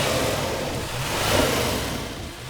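A twin-turbo 4-litre V8 car engine, a 420-horsepower replacement for a V10 in a 2013 model, accelerating with a continuous loud, broad roar that swells slightly midway, without speech.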